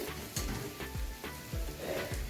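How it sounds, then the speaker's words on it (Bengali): Ginger garlic paste frying with browned onions in a pan, a constant close sizzle broken by several rhythmic scraping stirs of a spoon, no voices. "এটাকেও ভালো করে পেঁয়াজের সাথে নেড়েচেড়ে কষিয়ে নেব"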